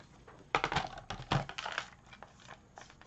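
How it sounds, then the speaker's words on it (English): Paper for a card panel is cut with a trimmer, a few close, quiet scraping and clicking strokes in short bursts, with no talking. "So let's get that piece cut."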